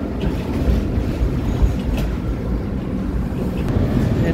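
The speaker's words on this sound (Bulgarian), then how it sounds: "Трамвай 11, той е 2 трамвая скачени за един." Inside a line 11 tram made of two cars coupled together, a dense low rumble of running gear fills the cabin, with faint rail clicks and occasional squeaks. The sound is steady and continuous, with no talking.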